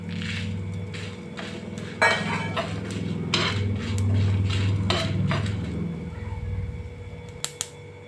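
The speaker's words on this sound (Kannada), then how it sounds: "ಈಗ ಸಾಸಿವೆ ಹಾಕೋತಾ ಇದ್ದೀನಿ" Mustard seeds go into a hot pan with dried red chillies for a Mangalore-style cucumber sambar, giving brief sharp crackles and pops over a steady low hum, with metal utensil clinks.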